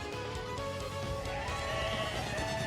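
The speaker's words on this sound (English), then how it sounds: "Look at the sheep go!" Sheep bleating in Paper Mario: The Thousand-Year Door, with a wavering, tonal cry stretched over game music. The bleating is fairly quiet and mixed with other game sounds.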